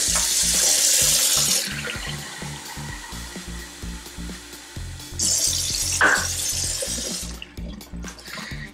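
Cold water runs from a kitchen tap into a drinking glass in two loud, steady bursts with a short pause between, alongside rhythmic low thumping in the background.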